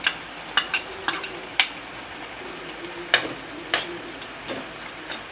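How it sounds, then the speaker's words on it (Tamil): A spoon stirs pasta in a pan with paprika, schezwan, tomato and chilli sauces, giving a soft continuous sizzle broken by a handful of sharp clinks and scrapes against the pan, close and moderately loud. "எல்லாம் போட்டு நல்லா மிக்ஸ் பண்ணிக்கோங்க"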